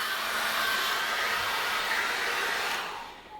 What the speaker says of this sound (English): I'm going to get the hairdryer on that